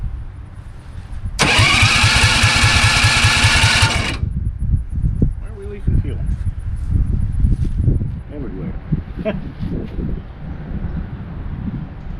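A go-kart engine is cranked with the choke on until it fires, giving a loud buzzing burst of a few seconds, then it drops into a low, uneven rumbling idle that sputters on to the end of the clip.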